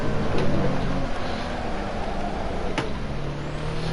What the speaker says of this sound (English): I do like the sound of this car too.